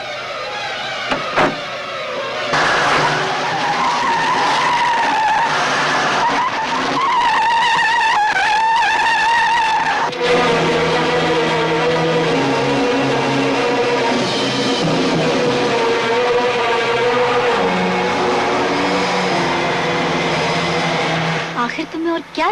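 A car in a Bollywood comedy film scene speeds off with skidding, squealing tyres and a roaring engine, loud and sustained, with voices in the scene heard over it.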